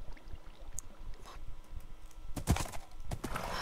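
Hooves of a horse in the video game Minecraft clip-clopping at a steady walking pace, fairly quiet, with a few sharper clicks mixed in and no talking.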